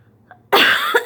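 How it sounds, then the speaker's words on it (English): A single sharp, loud cough from a person still recovering from bronchitis, close to the mic, breaking a near-silent moment and trailing off with a couple of short follow-up bursts. "I hope my cough doesn't annoy you too much"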